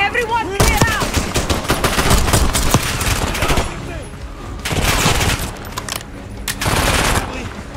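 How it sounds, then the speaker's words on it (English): Dense gunfire from the video game Call of Duty Black Ops 6: loud overlapping bursts of automatic weapons and single shots pile up in sustained volleys, easing briefly before fresh bursts return, with shouting voices mixed in. "They're shooting!"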